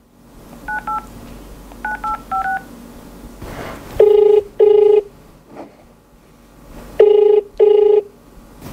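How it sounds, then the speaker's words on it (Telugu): A telephone call being placed: short DTMF dialing tones tapped in quick clusters, then two pairs of loud, steady ringback tones separated by a pause, with no voices. "చలో, నెంబర్ అయితే ఇచ్చారు, ఒకసారి కాల్ చేస్తాం."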